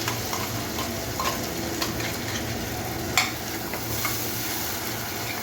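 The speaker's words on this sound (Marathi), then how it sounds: "चांगले परतून घेऊया." A paste of onion, tomato, cashew, ginger and garlic sautéing in a pan, giving a steady loud sizzle under continuous stirring, with one sharper clink of the spoon partway through.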